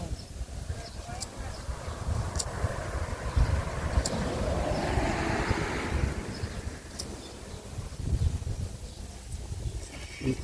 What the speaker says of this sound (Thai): ลมมันแรงนะครับเนาะ